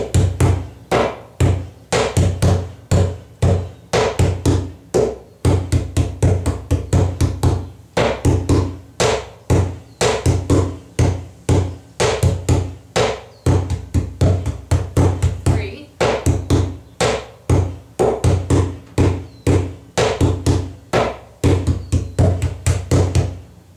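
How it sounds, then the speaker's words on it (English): A trash can used as a bass drum is struck with hammer-handle mallets in a quick, repeating rhythmic pattern of loud, booming hits, close and alone with no talking. "So I'm going to play this on a bass can for you"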